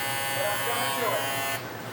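A Gamma Xceed electric shaver runs with a steady, loud buzzing hum close to the microphone, then cuts to a quieter tone near the end.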